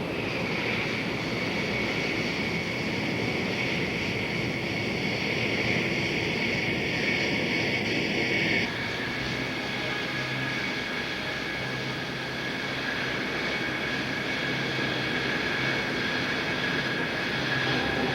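A Lockheed SR-71 jet taxis on an airport apron, its engines giving a steady, loud, continuous roar and whine that holds for the whole stretch, with the tone shifting partway through.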